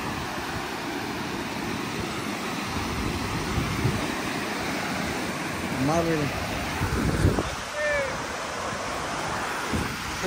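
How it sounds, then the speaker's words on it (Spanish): Ocean surf and wind at a beach, a steady loud roar of waves with gusty microphone rumble throughout, and a person's voice briefly heard over it. "Qué bonito se siente estar acá en la playa, sentado, el vientecito."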